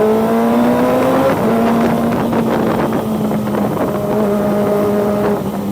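Kawasaki ZX25R motorcycle with a Scorpion RP1GP titanium carbon exhaust, droning loudly and steadily at high revs on a solo night ride, its engine tone shifting slightly amid constant wind rush.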